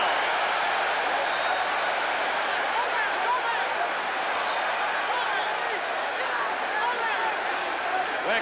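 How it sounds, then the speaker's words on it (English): Boxing crowd roaring throughout a late round of the Muhammad Ali vs Leon Spinks rematch, a dense, steady wall of cheering and shouting that never lets up for the whole stretch. "Ali scoring repeatedly there with the combinations as the crowd goes wild"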